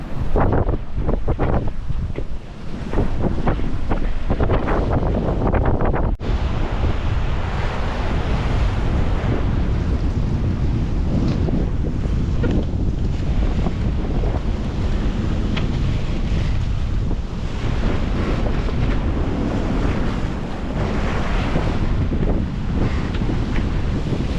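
Heavy wind roars across the microphone over the continuous wash and crash of 3-4 metre waves on the open Atlantic, heard from a small sailing boat, loud and unbroken throughout.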